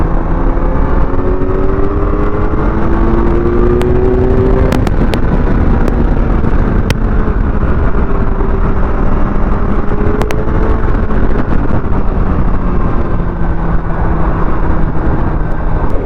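Loud, continuous exhaust roar from a Triumph Daytona 675 and a Kawasaki Z900 with the bread-box removed from the stock slip-on, riding in traffic on a road, with rising and falling engine tones and a few sharp pops.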